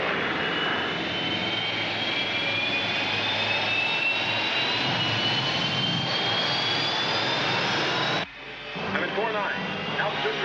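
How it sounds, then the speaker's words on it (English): Sci-fi rescue spaceship engine effect, a loud sustained jet-like roar with a rising whine that cuts off abruptly near the end, followed by brief quieter rumbling. "Rescue ship moving."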